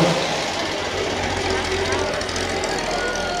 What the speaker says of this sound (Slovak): BMW 327 lomeno 8, to značí, že má výkonný motor